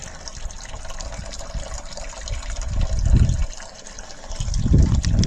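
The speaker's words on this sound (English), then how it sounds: "I think we'll just leave it running" Water from a hall bath toilet runs steadily during a flow test, a continuous close rushing and trickling that swells louder in two surges without any voices.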